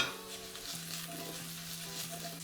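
Baby potatoes crisping in olive oil in a pan, a soft continuous sizzle with scraping and tossing sounds and a faint underlying hum, no voices.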